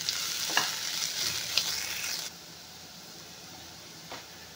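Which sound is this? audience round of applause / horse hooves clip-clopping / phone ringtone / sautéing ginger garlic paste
sautéing ginger garlic paste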